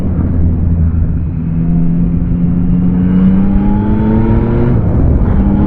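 A 2022 Yamaha Tracer 9 motorcycle rides along twisty roads, its engine droning steadily and rising in pitch through gears up close, with a continuous wind-buffeted rumble and no talk.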